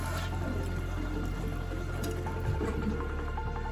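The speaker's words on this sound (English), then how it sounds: "It fills back up on its own, hooray." Outhouse flushing toilet with its tank refilling, a steady close rush of running water with faint drips and trickles throughout.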